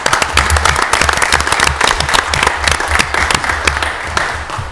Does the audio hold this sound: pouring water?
no